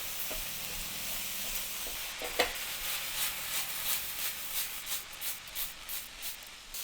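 Ground beef browning with chili powder, cumin and garlic in a hot pan, sizzling steadily while a utensil breaks it up and stirs it, with a sharp scrape at one point and rhythmic stirring strokes following.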